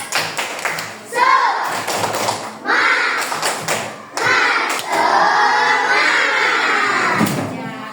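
Fourth-grade pupils in an Indonesian primary classroom perform a rhythmic clapping chant, bursts of sharp hand claps and taps mixed with loud shouted group chanting and a teacher's voice leading.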